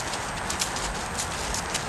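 Hooves of a Friesian gelding walking outdoors on a first ride in Colorado, a steady clip-clop of footfalls under heavy wind-like rumble and noise.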